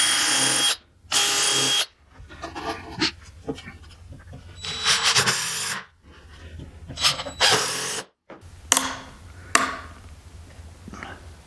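A power drill whirs in several loud bursts as it drives a screw through a pilot hole into wood, the motor pitch rising and falling with each pull of the trigger.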